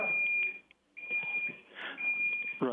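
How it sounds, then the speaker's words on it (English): A high, steady electronic beeping tone repeats in the background, dropping out briefly, while a person talks over it. "something's beeping in the background"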